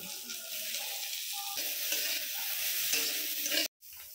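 Sliced carrot and capsicum sizzle in butter in a pan while being stirred for a Maggi noodle dish, a steady close frying hiss with scraping stirs, cutting out briefly just before the end.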